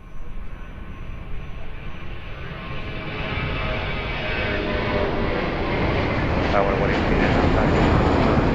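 Airbus A321 airliner rolling on runway 02 at Lisbon Airport, a broad jet roar building steadily in loudness from a moderate distance, with voices in the background.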